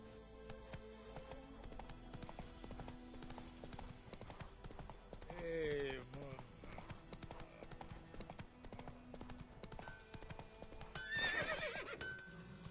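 Hooves clip-clop in a steady rhythm as a horse canters in The Witcher 3, with a couple of short whinnies and snorts over game music and a murmur of background voices.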